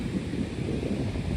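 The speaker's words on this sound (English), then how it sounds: "It's less windy than yesterday, though." Wind rumbles and buffets against the microphone on a Gold Coast beach in a low, continuous roar, with a faint wash of surf behind it.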